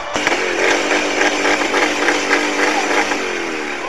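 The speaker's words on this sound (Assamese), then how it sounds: "যুৱতীগৰাকীক ডিফেন্ড দিবলৈ যুৱকজনে বহাই দিছে বাইকৰ এক্সিলাৰেটৰ" A motorcycle engine revs hard outdoors near a school as the throttle is held open, a loud continuous buzzing roar with slight fluctuations in pitch, close and sustained throughout.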